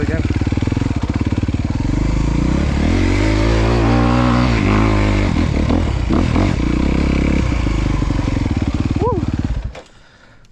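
A 2023 Honda CRF250R dirt bike revs hard and loud while being ridden, its engine note rising and falling in repeated throttle blips with clattering, before cutting off abruptly near the end.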